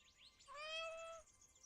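Echo, a rescue cat, lets out a single clear meow of under a second, faint and fairly close in a quiet room.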